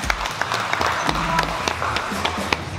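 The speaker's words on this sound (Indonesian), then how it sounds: "Tepuk tangan untuk semuanya." Audience applauding at a rental industry networking event in Indonesia, a steady patter of clapping with scattered sharper claps, mixed with some background voices.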